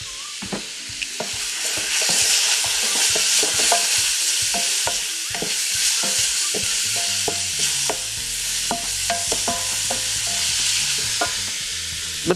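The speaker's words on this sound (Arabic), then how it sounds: "رح أقلي البصل والثوم" Onion and garlic frying in a pan, a steady loud sizzle with repeated clicks and scrapes of stirring throughout, no voices.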